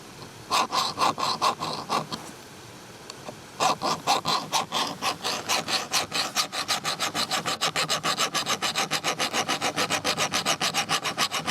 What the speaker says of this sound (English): You can hear it when the file is starting to actually dig in and grind into the metal.